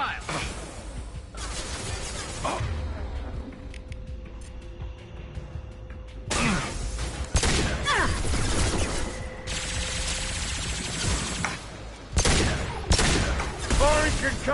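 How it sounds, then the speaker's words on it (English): Bursts of gunfire and a concussive shot in Mass Effect 2 combat, sharp rapid volleys arriving in several loud clusters across the stretch, with voices speaking between and over the shooting. "Firing concussive shot."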